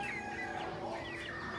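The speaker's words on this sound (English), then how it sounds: "I know you can hear all the roosters." Steady chorus of poultry noise at a small animal livestock auction, with roosters crowing and hens clucking, continuous and close, no voices.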